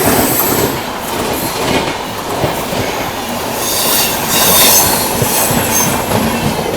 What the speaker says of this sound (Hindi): क्या निकली है Patna junction Ernakulam super fast express